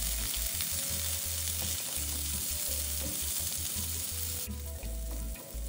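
Sliced shallots and soaked dried shrimp fry together in hot oil, producing a loud, dense, unbroken sizzle close by, with a low steady hum underneath.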